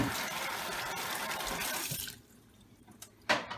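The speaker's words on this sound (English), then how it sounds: "You need to wash your potato." Running tap water streams steadily over a potato being washed in a home kitchen sink for about two seconds, then stops and leaves a faint splash and drip.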